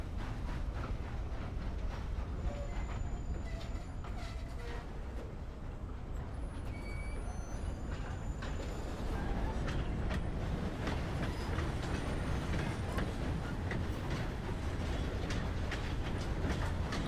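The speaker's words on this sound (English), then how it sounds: "Problem with the train also, it's very loud" A train passes by in a western roleplay video game, a loud, continuous rumble with rail clatter and faint metallic squeals that builds slightly over seventeen seconds, with no talking.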